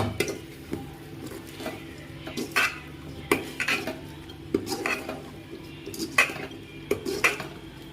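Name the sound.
stirring curry in a pot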